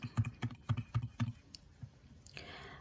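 Keys clatter on a computer keyboard in a short burst of about six quick, close taps, then a couple of sparse clicks before a soft rustle; no speech.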